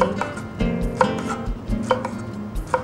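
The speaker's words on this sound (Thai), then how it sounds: "เราก็จะหั่นพริกชี้ฟ้าหนานิดนึง" A knife slices thick pieces of red chili pepper on a cutting board in a Thai kitchen, producing close, crisp chopping taps in an uneven rhythm.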